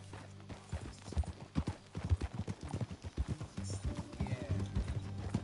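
Horse hooves clip-clopping in Red Dead Redemption 2, a close rhythmic stream of hoofbeats at a trot, with low background sounds alongside.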